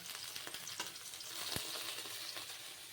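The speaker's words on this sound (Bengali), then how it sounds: "এইভাবে ভেন্ডিগুলোকে আমি একটু ভেজে নিই" Okra sizzling in hot oil, a soft continuous crackle and hiss with occasional clicks of stirring, heard close and fairly quiet with no talking.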